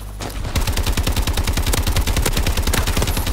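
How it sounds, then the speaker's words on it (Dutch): An S12 shotgun fires in a first-person AW Gun Game match, loud and close, letting off a rapid, relentless string of booming shots that blur into one continuous barrage with no pause and no talking. "Een shotgun die niet mijn lievelings is. Dat ding schiet."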